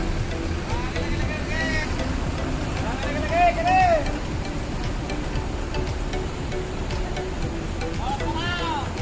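The ANS Royal Class bus engine rumbles steadily while the bus parks at Kampung Rambutan terminal, with a low continuous drone and people talking over it.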